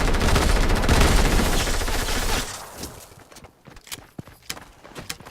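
Shotgun gunfire in a first-person shooter game, a dense burst of loud blasts for about two seconds, then scattered sharp shots and clatter trailing off.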